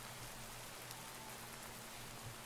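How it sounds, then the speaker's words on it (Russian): Rain falls steadily in modded Minecraft 1.12.2, a soft, even hiss with no breaks, faint and constant throughout. "дождь"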